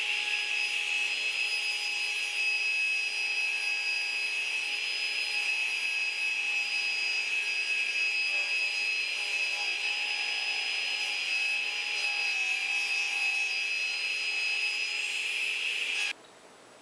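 A radial arm saw rips cabinet sides, a loud, steady high whine with a constant cutting roar that holds evenly for about sixteen seconds before suddenly dropping away.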